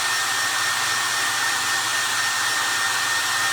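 A hair dryer runs steadily throughout, a loud, continuous blowing whir that does not change and has no voices over it.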